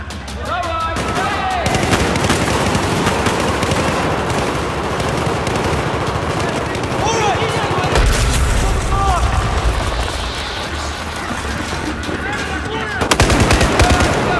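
Battlefield 4 gameplay with sustained machine-gun fire and bursts of gunshots, dense and loud throughout, with booms and voices mixed into the battle.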